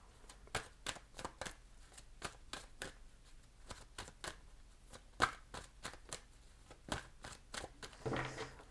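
Tarot cards being shuffled and drawn, a steady run of crisp riffling snaps repeating about every half second, fairly close, with a louder flurry of shuffling near the end and no talking.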